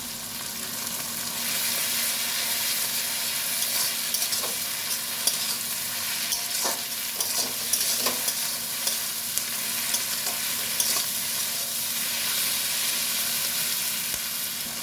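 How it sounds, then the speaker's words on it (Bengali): Tomatoes and a spoonful of garlic paste sizzle steadily in a hot pan, a continuous bright frying hiss with occasional stirring clicks and scrapes, close and fairly loud with no talking. "এই সময় এখানে দিয়ে দেবো 1 চামচ বেটে রাখা রসুন বাটা।"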